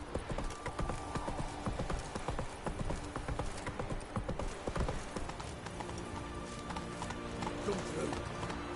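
A horse gallops in The Witcher 3, its hooves clip-clopping in a rapid, steady rhythm throughout along with game sounds. The hoofbeats are fairly close and continuous, with a voice speaking over them at times.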